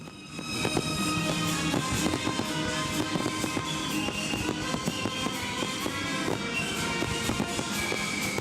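Fireworks at an Independence Day celebration at a sports complex crackle and pop in a dense, continuous barrage, with rapid overlapping bursts at steady loudness throughout.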